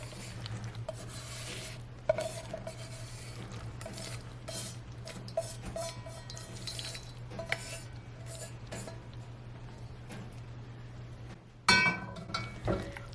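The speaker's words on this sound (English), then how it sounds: "now we can go ahead and add in all of our pasta, all of our noodles" Cooked pasta noodles being stirred into mac and cheese sauce in a pan, with a steady utensil scraping and clinking against the pot over a low hum, several sharper knocks, and a louder clatter near the end.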